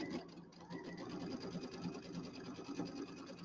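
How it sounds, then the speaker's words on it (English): Sewing machine stitching a quarter-inch seam on a quilt pillow, a quick regular needle clatter over a soft motor whir, steady and close but fairly quiet, brief and alone. "I'm going to get this all lined up here and do my 1/4 inch seam"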